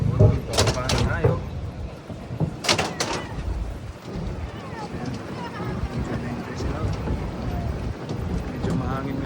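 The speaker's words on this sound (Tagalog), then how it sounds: "Medyo mahangin nga lang ngayon," Steady wind rumbles and buffets the microphone throughout, with a voice talking briefly near the start and faint outdoor noise beneath.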